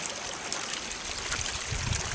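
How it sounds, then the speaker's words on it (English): Water trickles and gurgles through a creek or drain ditch leading out of a wet area with standing water, a soft continuous flow that swells slightly toward the end, no one speaking. "the standing water and the creek that leads out of it, or drain ditch"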